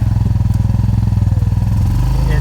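A Yamaha trike runs in four-wheel drive along a trail, its engine thudding in a loud, rapid, even pulse close by before settling into a smoother drone.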